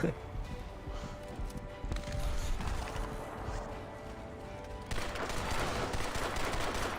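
Gunfire and combat sounds from the video game Crysis 2 Remastered on Switch make a dense, noisy barrage of shots and crashes, with a voice talking over the game audio.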